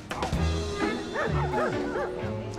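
Dogs bark and yip in quick, high-pitched bursts, a few excited whimpering yelps close by, with a voice briefly audible among them.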